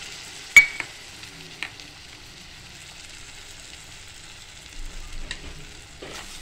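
Onion and cashew paste hits a hot pan and fries with a steady low sizzle, punctuated by a few sharp clinks of a spoon against the pan; no one speaks.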